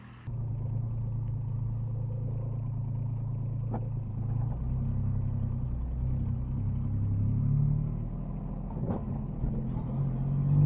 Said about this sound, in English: this car really needs a muffler. And well, we haven't done that yet. So today the car is going to be a bit noisy.